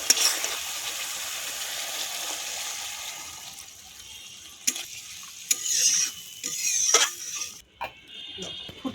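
Water poured into hot oil for a Bengali mustard-poppy tilapia fish curry, giving a steady loud sizzle and stirring that fades after a few seconds, followed by scattered clinks and a brief voice.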